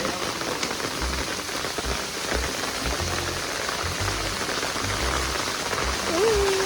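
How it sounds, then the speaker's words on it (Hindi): Heavy rain during a thunderstorm at Samode Palace near Jaipur pours down steadily, a dense hiss of drops drumming on surfaces with no break. "बहुत बहुत तेज़ बारिश होती है, हो रही है।"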